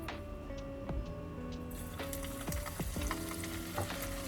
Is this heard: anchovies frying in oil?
yes